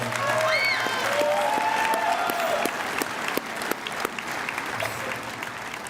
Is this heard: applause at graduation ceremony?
yes